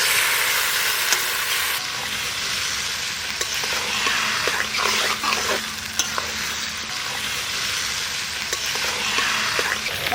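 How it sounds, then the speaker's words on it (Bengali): Marinated Kadaknath black chicken frying in a pan gives a loud, continuous close-up sizzle with intermittent stirring scrapes and small clicks throughout, with no voices. "মাংসটা দিয়ে দিচ্ছি, মাখানো মাংসটা।"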